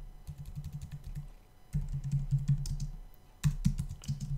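Someone types CSS code on a computer keyboard, with rapid close clicking keystrokes in three bursts separated by short pauses.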